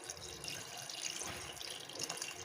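Water is poured into a pot of crab for soup, a faint, continuous splashing trickle lasting a couple of seconds with no one speaking.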